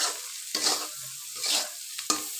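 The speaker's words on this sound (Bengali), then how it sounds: "3টা নুডলস আর হচ্ছে তোমার পাস্তা একসাথে মিক্স করে রান্না করছি বন্ধুরা।" Noodles and pasta being stirred and fried together in a pan, three distinct scraping swishes of a utensil over a low sizzle, close up and alone.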